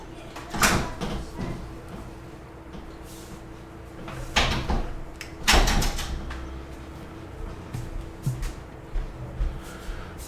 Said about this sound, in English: Okay, open the doors up